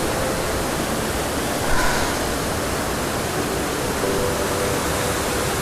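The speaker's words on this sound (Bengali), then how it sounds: "এই সেই স্রোতস্বিনী পুকুর জবড়া খাল থেকে সৃষ্ট ঝর্ণা।" A waterfall fed by a hill stream in the Ayodhya hills pours in a steady, dense broadband roar, loud and close, with no pauses or voices.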